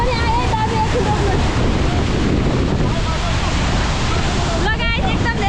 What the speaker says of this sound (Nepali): ल गाइस एकदम धेरै हावा चलेर फोटोहरू खिच्नै पाइएन